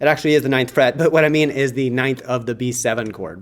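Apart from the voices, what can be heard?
No distinct noise like a dog, phone or traffic.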